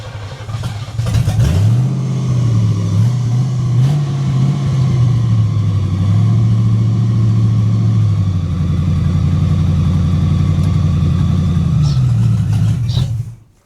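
Pontiac Firebird V8, neglected and sitting for years, running steadily close by with a rough lumpy idle that swells through several slow revs and settles, loud and continuous with no talk over it.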